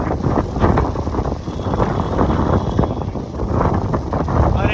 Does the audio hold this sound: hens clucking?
no